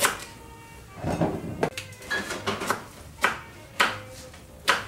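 A knife chopping okra into chunks on a board, a series of sharp irregular knocks with softer scraping between, close and fairly clear without talk.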